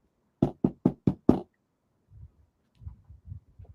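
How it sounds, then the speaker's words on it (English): Knocking on a door from outside: five sharp, evenly spaced raps in quick succession, then a pause and a looser run of softer, duller thuds. "Drew was outside knocking on the door."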